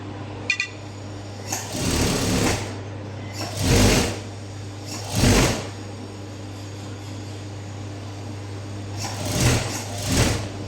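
A sewing machine stitches blouse sleeves in short runs, each a close whirring buzz lasting about a second, separated by quieter pauses over a steady low hum.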